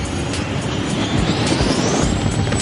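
Helicopter of a cartoon spy in flight, a steady loud broadband engine and rotor roar with a whine on top, continuous and close throughout with no talking.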